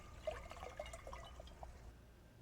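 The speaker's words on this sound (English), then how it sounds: "you can see how much water will leak out before you actually set it down" Water leaking and trickling out of a hydroponic grow tray, a soft near splashing and dribbling with small drips, fairly quiet and steady over low background rumble.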